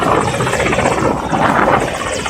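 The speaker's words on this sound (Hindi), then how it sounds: "क्यों गिरा रईसी का हेलीकॉप्टर?" A helicopter's rotor thrums steadily and loudly overhead, a continuous engine drone with pulsing blade chop and no voices.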